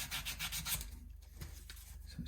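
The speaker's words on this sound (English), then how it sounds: "So it's just a little bit of manual sanding. I'm using 400 grit here." Hand sanding the frets of an ASAT Tele-style guitar with 400 grit sandpaper: close, soft, rhythmic back-and-forth scratching strokes repeat steadily, with no voices.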